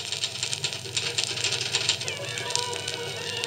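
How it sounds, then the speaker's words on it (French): Typewriters clattering next door in an apartment, a dense rapid patter of tapping keys with rattling mechanical clicks, steady and moderately loud over a hissy background, no voices. "Les crépitements des machines à écrire d'à côté."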